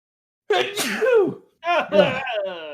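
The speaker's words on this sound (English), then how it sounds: "I'm going to sneeze" A single loud sneeze bursts out close by, followed by a voiced exclamation and a few spoken words.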